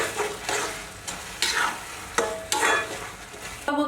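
Kashmiri red chilli powder and salt being stirred into a masala for beetroot momos, a spoon scraping through the mixture in several short strokes with faint sizzling between them, close and moderately loud.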